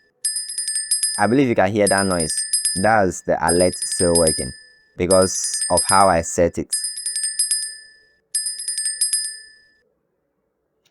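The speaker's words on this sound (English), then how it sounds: "I believe you can hear that noise. That's the alert still working." A TradingView price alert rings in repeated bursts of a high metallic bell-like chime, about five rings over several seconds, with someone talking between and over the rings.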